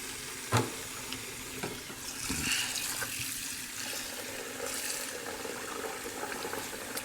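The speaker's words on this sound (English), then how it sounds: "just fill it full of water" Water running and filling a pot for corned beef silverside, a soft continuous splashing gurgle with a couple of light knocks, fairly quiet.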